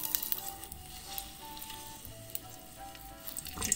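Bacon fries in butter in a pan on a stovetop, a steady close sizzle with small pops and crackles throughout, no voices.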